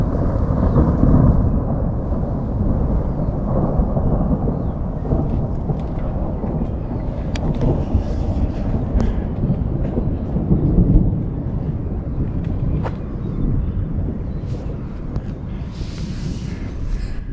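Deep, continuous thunder rolls through a rainy outdoor garden setting, loud and sustained across the whole stretch with light rain patter underneath and no voices.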